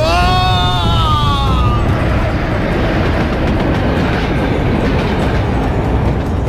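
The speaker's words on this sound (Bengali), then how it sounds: "আর ঠিক সেই সময় ট্রেনটা প্রচন্ড দুলে উঠলো একবার।" A train lurches and rattles in a radio-drama effect, opening with a screeching metallic squeal of wheels over a loud, dense rumble that settles into steady heavy rattling and clatter, close and without speech.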